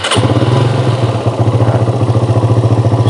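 A 2013 Suzuki Satria F motorcycle engine starts with a quick crank and catches, then settles into a steady, rhythmic, close-up idle with a pulsing mid-pitched beat.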